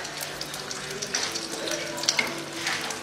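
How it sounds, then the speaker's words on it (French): Local rice bubbles and simmers in pots on a restaurant stove in Côte d'Ivoire, a soft continuous watery sizzle with faint clinks, fairly quiet throughout. "le riz local acheté au marché de Cocody est en pleine cuisson dans les casseroles"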